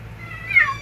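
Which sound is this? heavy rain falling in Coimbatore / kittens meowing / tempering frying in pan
kittens meowing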